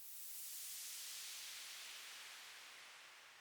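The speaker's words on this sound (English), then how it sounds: "we have just a nice little white noise just kind of whooshing its way down to introduce the chorus section" A steady white noise whoosh riser, broad and hissy, sweeping downward and gently fading over a few seconds to introduce a chorus in a production of a song, with no other sounds.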